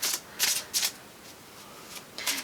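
Shadowscapes tarot cards being shuffled in bursts of crisp riffling, several short flurries separated by brief pauses, close and fairly quiet.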